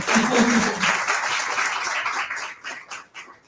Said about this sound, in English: That deserves an applause just there